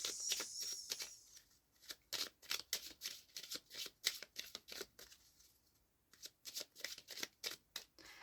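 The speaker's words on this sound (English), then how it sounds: "I'm gonna shuffle these ones." A deck of cards being shuffled, crisp riffling bursts repeated in quick succession, close and clear, with short pauses between shuffles.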